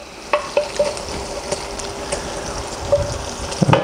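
Bacon and beef shin browning together in a pan for chili con carne, a steady sizzle broken by repeated clinks and scrapes of a utensil against the pan, with no talk.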